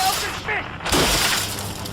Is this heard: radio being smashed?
yes